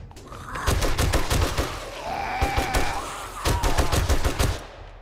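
Rapid gunshots in 7 Days to Die fired at zombies during a factory raid, two loud clusters of sharp repeated cracks with a brief lull between them and a low droning background.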